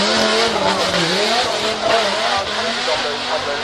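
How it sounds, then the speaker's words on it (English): A modified sports car spins through a donut, its tires squealing and skidding in a long, continuous wail over a loud engine drone, with voices talking throughout. "you can see them spinning around while she's doing a donut"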